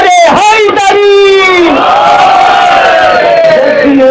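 At a religious celebration gathering in Juhu, a massed crowd roars a loud, sustained, unified shout in answer to a Naara-e-Haidari call, voices rising together and holding a long drawn-out cry, very near and dominant.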